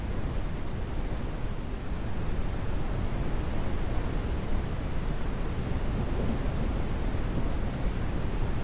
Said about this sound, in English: That's quite the storm.